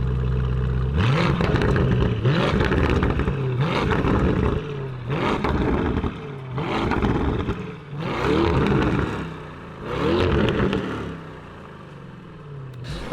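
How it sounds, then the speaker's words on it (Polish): Lamborghini Urus fitted with an MG Motorsport aftermarket exhaust, revved hard about seven times in a row, each sharp blip rising and dropping back, loud and close with no talking. "ten wydech tutaj w tym samochodzie bardzo dobrze chodzi"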